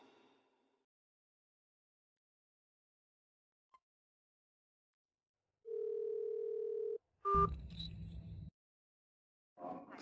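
A steady telephone tone sounds for about a second, followed by a brief clunk and rustle as the call is hung up, in an otherwise quiet room.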